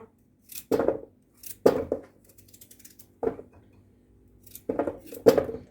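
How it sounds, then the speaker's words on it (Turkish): A knife strikes a cutting board in short, separate bursts, several uneven chops through carrots cut into large pieces, with pauses between them, close by and fairly loud. "Şöyle iri iri doğruyorum havuçlarımı da."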